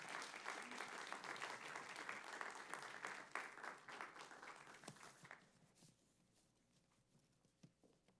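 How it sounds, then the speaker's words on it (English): Audience applause for panelists at a Chicago local-journalism event, dense clapping that fades out after about five seconds into quiet room tone. "let's give our panelists a round of applause"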